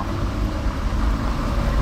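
A McLaren 720 Spider sports car drives by on a Paris street, a loud, close engine roar and road rumble filling the whole moment with no voices.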